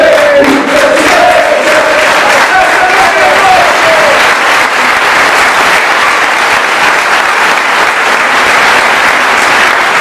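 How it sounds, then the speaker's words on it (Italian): Sustained applause from a press conference audience in an Italian football club setting, loud and steady throughout, with a few faint voices mixed into the clapping. "fammi l'applauso, Mario."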